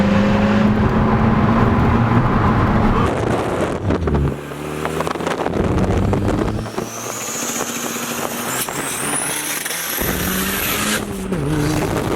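A Nissan 240SX spins out, its engine droning loudly, then revving and dropping away in bursts, with tire squeal rising near the end and wind buffeting the microphone.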